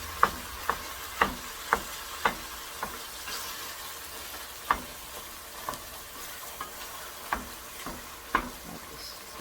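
Ground beef browns in a pan with a quiet, steady sizzle, punctuated by a series of sharp clicks and taps from stirring at irregular intervals.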